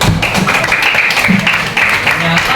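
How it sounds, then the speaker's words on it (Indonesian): A third-grade primary school class claps for a classmate during a Quran reading lesson, a dense, steady patter of many small hands with a voice speaking over it. "Ayo kita beri tepuk tangan kepada teman kita."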